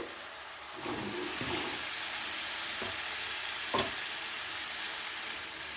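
Fried potatoes and pointed gourd tipped into oily masala for a dahi aloo potol curry, a steady sizzle with a few sharp clatters as pieces drop into the pan and are stirred.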